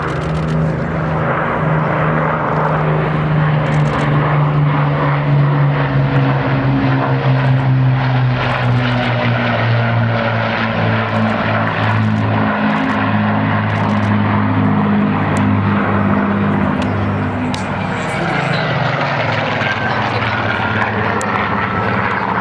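A WWII aircraft powered by Rolls-Royce Merlin piston engines flies past at an air show, a loud sustained propeller drone whose pitch slowly falls as it passes.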